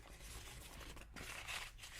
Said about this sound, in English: So you just crumple it and uncrumple it over and over and over